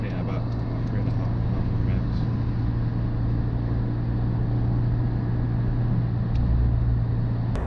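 Steady, boomy road and engine drone inside a Suzuki Jimny cruising on the motorway without a sixth gear, continuous and fairly loud throughout.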